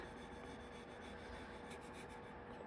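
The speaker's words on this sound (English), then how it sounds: "take the popsicle stick, make sure you hold on to it because it will slide on you. And then just rub it down" A popsicle stick rubs across the surface of a birdhouse craft kit, giving a faint, steady scraping friction that continues without pause and without talk.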